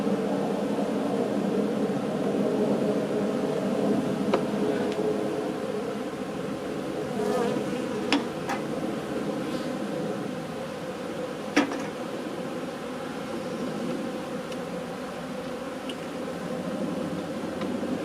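Honeybees at an opened hive held in a cellar, a dense, steady buzzing swarm close by, with a few faint clicks and knocks from the hive frames.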